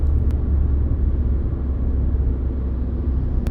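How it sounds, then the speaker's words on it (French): A steady, dense rumble of highway traffic rolls on without pause, low and broad, with a couple of brief clicks near the start and end. "Sur l'autoroute, la circulation est dense comme un jour de départ en vacances."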